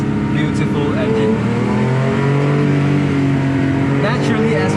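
A Porsche 911 Carrera S 997.2 with its 3.8-litre naturally aspirated flat-six rises and falls through loud, steady revs with clear harmonic tones, close to the microphone and continuous.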